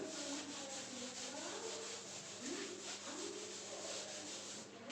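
Steady, even rubbing as writing is wiped off a table, a continuous soft scrubbing hiss with faint bird cooing in the background and no speech.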